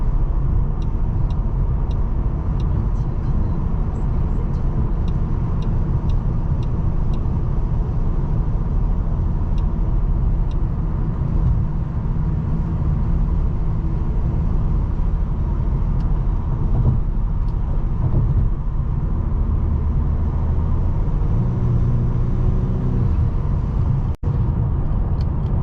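Steady low road rumble and tire noise fill the cabin of a 2022 Mercedes-AMG CLS 53 on a relaxed drive, a constant hum with no voices and one brief click near the end.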